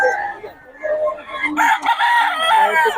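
A rooster crows loudly and close by in Nueva Ecija, Philippines, a drawn-out call that rises and holds, with some clucking and background voices around it.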